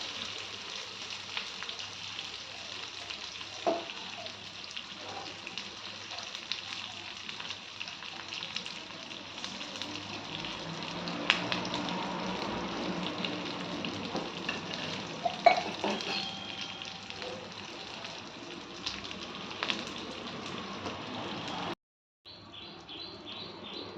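Onion tempering for mulakaya (drumstick) sambar frying gently in a pan, a steady soft sizzle with occasional stirring scrapes, close and moderate, cutting off briefly near the end.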